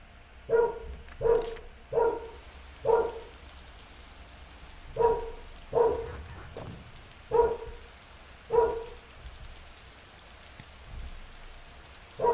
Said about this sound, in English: I also apologize for the dog if you can hear him.